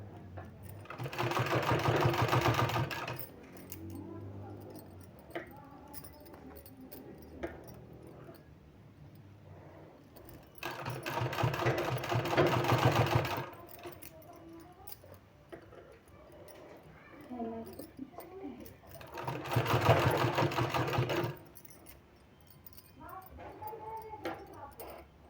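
Sewing machine runs in three steady bursts of a few seconds each while a sleeve is stitched, with a quiet voice talking in the pauses between runs.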